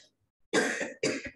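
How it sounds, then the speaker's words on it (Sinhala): A teacher coughs twice in quick succession, a short harsh pair of bursts close to the microphone in an otherwise quiet room. "මේ දවස්වල ටීචර් හොඳටම කැස්ස."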